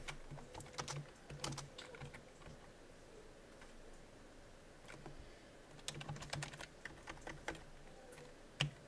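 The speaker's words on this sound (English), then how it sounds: "you get tired of typing this" Computer keyboard typed on while writing code, quick bursts of light key clicks with short pauses between them, close and fairly quiet.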